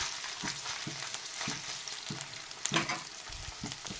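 Ginger paste and green chillies fry in oil and are stirred repeatedly, a steady sizzle punctuated by rhythmic scraping strokes roughly every half second, close and without speech.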